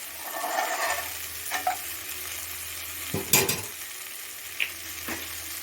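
Beaten eggs poured into a hot pan for a quick scrambled egg podimas, sizzling softly up close, with a burst of spatula scraping and a few clinks against the pan.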